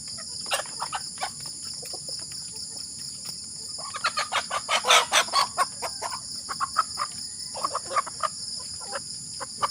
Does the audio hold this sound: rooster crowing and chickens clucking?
yes